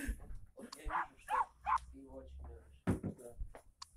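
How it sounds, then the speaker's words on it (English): A puppy yaps in short bursts and then whimpers in thin, high whines, a few quick close calls spread across a few seconds with quiet gaps between them. "Puppy."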